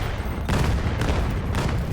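Grenades go off in VAIL VR during a competitive 5v5 league match, two heavy booming blasts about a second apart over a continuous rumble of gunfire and game noise.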